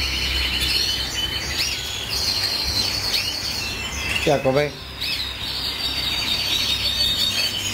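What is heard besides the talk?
cage bird chirping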